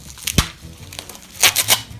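A bread knife saws and tears through the packaging of an airsoft parcel: a sharp rip near the start, then a quick cluster of three rough cutting scrapes later, close and fairly loud with no voices.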